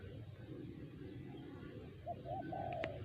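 A spotted dove gives its three-coo call, soft and fairly distant, near the end of a quiet stretch of low outdoor rumble. No speech is heard.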